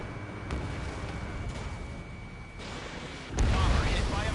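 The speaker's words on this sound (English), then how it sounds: "Bomber hit by a missile." A missile strikes a bomber in a PS4 combat flight game, bursting into a loud, broad rumbling explosion near the end over a steady engine-like drone, with faint talk mixed underneath.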